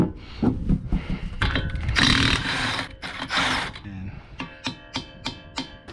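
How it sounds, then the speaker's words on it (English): A Snap-on impact gun hammers at axle parts in a series of loud, close bursts of rattling whirring, ending in several short rhythmic pulses. "I love this snap-on gun. Lightweight and has enough torque"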